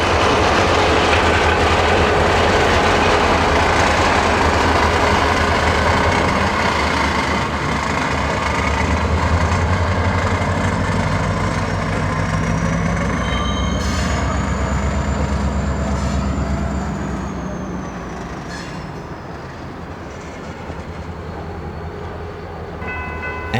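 An FEC freight train led by EMD SD40-2 locomotive #703 rolls by up close, with a loud, steady rumble and clatter of wagons, a brief tonal whine partway through, and the noise easing slightly toward the end.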